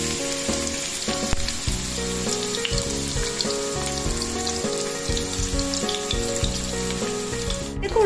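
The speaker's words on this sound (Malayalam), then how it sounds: "ഇനി നമുക്ക് ചതച്ച് വെച്ചിട്ടുള്ള ചുവന്നുള്ളിയും വെളുത്തുള്ളി ഇട്ട് കൊടുക്കാം." Crushed shallots and garlic sizzle loudly in hot oil, a continuous close crackle with a few sharper pops, while music with a clear melody plays underneath.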